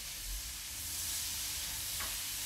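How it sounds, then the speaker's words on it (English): Masala beef fries in a pan as it is stirred, a steady close sizzle and hiss with a faint scrape of the spoon and no talk. "Give it a stir."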